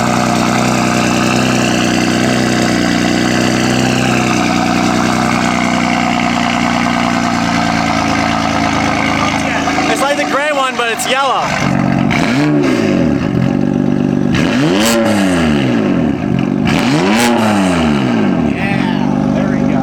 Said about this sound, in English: let's get a start up on this exhaust